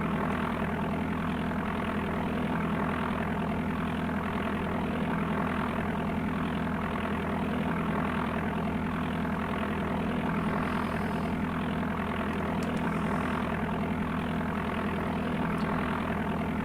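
Simulated propeller airplane engine drones steadily during low flight in the DOS game Flight Simulator 4, a constant, moderately quiet hum with a few faint ticks and no voices.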